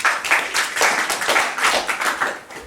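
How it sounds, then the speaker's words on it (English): Live audience applause at a spiritual lecture on the Bhagavad Gita, a dense, steady burst of many hands clapping for under three seconds, loud and close, with no talk over it. "Give applause to."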